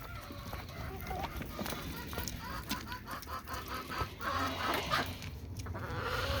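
Chickens clucking near a chicken house at dusk, a steady mix of soft clucks and calls from several birds nearby, with someone talking now and then over them.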